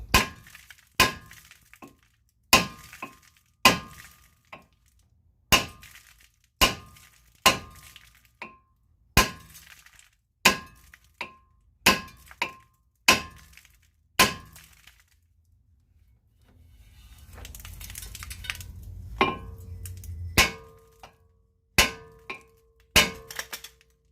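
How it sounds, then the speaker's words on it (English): Sharp metallic clangs from a hammer striking a stuck, rusted brake rotor repeat in a steady series, with a brief pause filled by a low rumble before the banging resumes. "I go back to the hammer and I just want to keep banging it"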